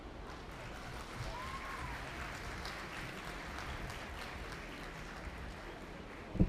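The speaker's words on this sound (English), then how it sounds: "Let's give them a big round of applause" Steady applause from an audience at a county fair dairy princess contest, a dense, even patter that carries throughout with a brief louder bump near the end.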